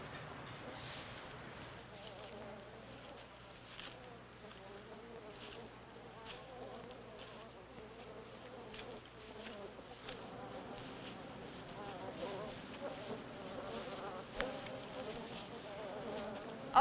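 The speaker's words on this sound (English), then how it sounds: "knew exactly where to look for those wild beehives" Wild bees buzz around hives in the open, a faint, steady insect drone that holds for the whole stretch with slight swells, alone and without talk.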